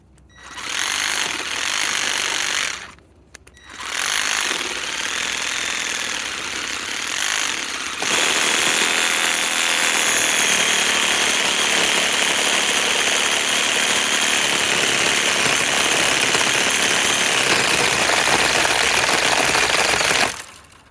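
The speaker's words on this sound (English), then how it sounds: "here we are with the reciprocating saw" A Ryobi P2503 ONE+ 18V pruning reciprocating saw cuts with a loud, rapid, continuous rattling buzz at close range, broken by one short pause before it runs on steadily.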